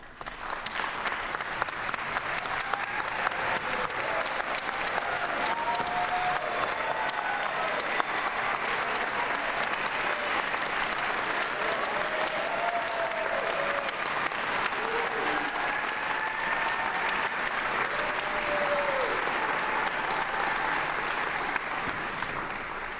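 A hall audience applauds the graduating students at the Peabody Conservatory undergraduate ceremony, a long, dense and steady wash of clapping that holds at full strength throughout with no speech on top.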